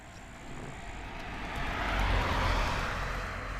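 A motorcycle is ridden, its engine a steady rushing drone with wind noise that swells in loudness midway and eases off, no voices present.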